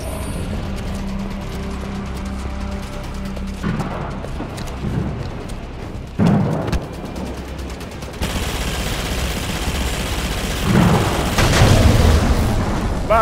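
Explosions and heavy weapons fire from a battle against cannons in the video game Halo 5: Guardians, with loud booms and continuous gunfire-like bursts. Sharp blasts stand out near the middle and toward the end.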